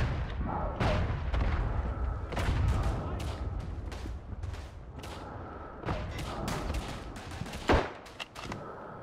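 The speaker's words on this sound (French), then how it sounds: "la grenade, la grenade" A grenade goes off during a firefight in the First World War shooter game Verdun, one sharp blast near the end amid a steady clatter of close rifle and machine-gun fire.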